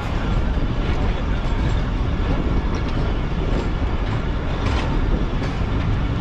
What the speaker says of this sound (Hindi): ये लांडी जंक्शन को ट्रेन ने अलविदा कह दिया है और अब आगे बढ़ रही है हैदराबाद की तरफ